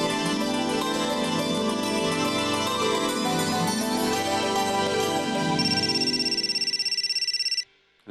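A melodic phone ringtone plays continuously, loud and close, with a bright repeating tune that cuts off abruptly near the end.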